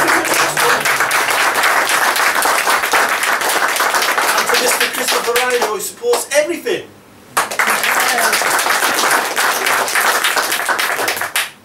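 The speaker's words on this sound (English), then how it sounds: "I think we should give a big round of applause" Applause at a poetry reading before a full house: a crowd claps steadily throughout, with someone speaking over it and a short lull near the end.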